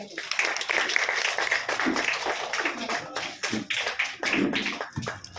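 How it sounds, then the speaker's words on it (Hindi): An audience at a Meerut school function, including teachers of Vimal Academy, claps loudly and steadily for several seconds, with dense, sustained applause and some voices mixed in. "जोरदार ताली बजाइए।"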